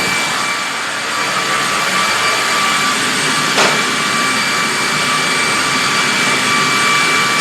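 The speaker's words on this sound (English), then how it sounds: "So I got the vacuum cleaner on in the corner." A vacuum cleaner runs steadily in the corner of a room, its broad, even roar holding at a constant level throughout with no pauses.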